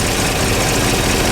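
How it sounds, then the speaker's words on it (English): A 1953 Chevrolet Corvette with a 6-volt system idles very slowly, a steady, loud, low rumble that runs unbroken with no talk over it. "It's got a very slow idle speed, so you can tell it idles pretty slow."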